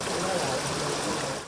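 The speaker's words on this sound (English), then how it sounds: "Glistening droplets emerge from the earth, forming crystal clear pools that reflect the vibrant hues of the surrounding flora." Spring water trickling steadily from the ground into clear pools at springs feeding the Ewaso Nyiro River in Kenya, a continuous close babbling flow with no pauses.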